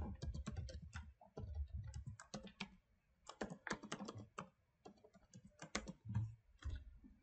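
Rapid, uneven bursts of key presses on a computer keyboard while a password is entered, close and clear, with short pauses between clusters and no talking.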